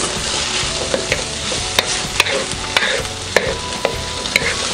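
Onions sautéing in a pan, a steady loud sizzle with periodic sharp scrapes and taps of a utensil stirring, close up and without talk.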